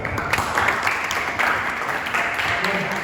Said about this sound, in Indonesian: terima kasih Mas Pengajar kita sudah beri tepuk tangan